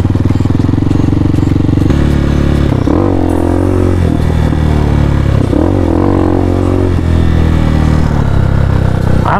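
A Hawk 250 motorcycle ridden on woodland trails, its engine loud and close throughout, revving and easing as gears change, with some clatter over rough ground.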